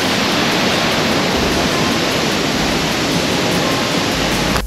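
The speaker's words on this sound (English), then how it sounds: "So there was quite a mist coming from the waterfall." Steady broadband roar of a misty waterfall in Ubud, Bali, loud and continuous throughout with no voices over it.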